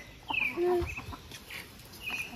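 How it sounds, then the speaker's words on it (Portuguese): Chickens cluck and squawk close by in a backyard, several short calls in uneven bursts over low outdoor noise. "Ah, as galinhas estão tudo ali agora"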